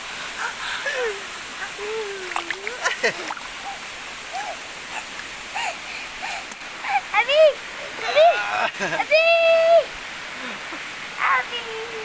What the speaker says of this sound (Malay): Berenang, kami berenang guys